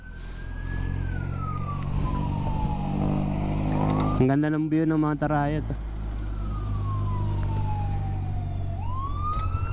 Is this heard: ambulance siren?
yes